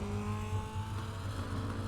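Mini stock race car engine from the iRacing game at Oxford Plains Speedway, a steady droning engine note that stays loud and continuous with slight fluctuations and no break.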